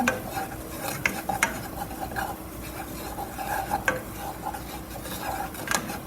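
A roux for mac and cheese sauce is stirred in a pan, with a steady soft sizzle under repeated scraping strokes and occasional light clinks of the utensil against the pan.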